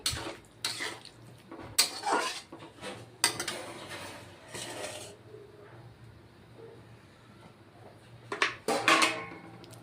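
A metal lid clatters onto a pan of dry potato and yardlong bean curry, with several sharp close knocks and scrapes spread across the moment and quieter shuffling between them.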